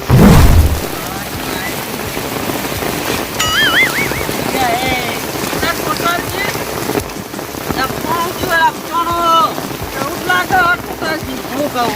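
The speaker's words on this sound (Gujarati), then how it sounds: "આ વરસાદ તો જબરજસ્ત પડી ગયો" Heavy rain pours down hard in a loud, constant roar, with gusty wind buffeting the microphone and voices shouting and talking over it.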